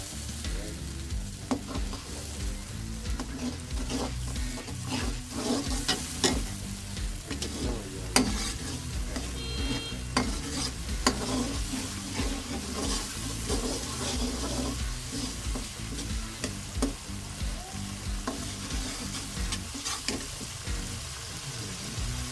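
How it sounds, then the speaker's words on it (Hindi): Tomato paste sizzles steadily in a pot for a fish qorma masala while a spoon stirs it, with soft scraping and bubbling running continuously and closely, with no talking. "इसी बर्तन में हम इसको पका लेंगे"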